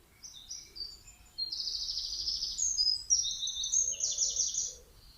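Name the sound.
birds singing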